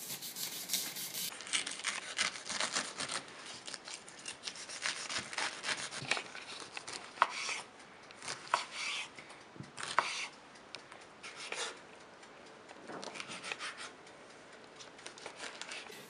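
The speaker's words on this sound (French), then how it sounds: "on prend l'ananas, on découpe la tête." A knife cuts through a pineapple, taking off the top, with quiet close crunching, scraping and rubbing strokes in irregular bursts against a faint background.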